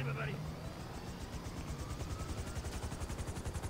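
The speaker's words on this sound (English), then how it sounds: "Are they gonna let him keep that helicopter?" Helicopter in the Grand Theft Auto V video game, a steady rhythmic rotor chop throbbing under game noise, growing more pronounced toward the end, with a brief voice near the start.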